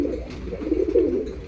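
A soft, low bird cooing repeats steadily and close by, with no voices.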